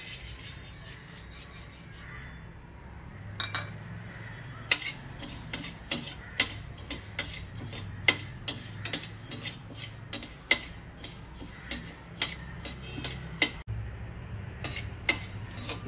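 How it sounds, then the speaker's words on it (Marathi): Coriander seeds dry-roasting in a pan, with a steady run of light, regular ticks and clinks from the spoon stirring them, close and fairly quiet, no voices. "आता आपण धणे भाजून घेऊया।"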